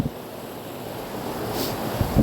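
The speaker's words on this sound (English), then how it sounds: "I am experiencing sounds of the birds alongside the sounds of the waterfall." Waterfall on a man-made river in Maidenhead, heard outdoors as a steady, close, broadband rush of falling water with only a faint suggestion of birds above it.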